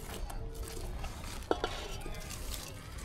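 Chicken being stirred in a clay-coated pot over a wood-fired stove, with steady cooking hiss, scraping, and a couple of sharp metallic clinks from a utensil against the pot.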